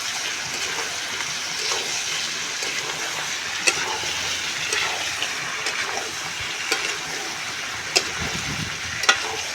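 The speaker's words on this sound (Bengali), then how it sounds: "মিট মশলা দিয়ে আরও কিছুক্ষণ নেড়ে চেড়ে নেব।" Chicken curry with potatoes and meat masala is stirred in a pan, giving a soft continuous sizzle with scattered scraping clicks of the spoon, moderately quiet and without speech.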